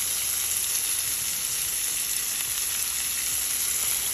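A beef burger patty with jalapeno fries in a pan, giving a steady, dense hiss and crackle of sizzling oil, close and unbroken, with no voices.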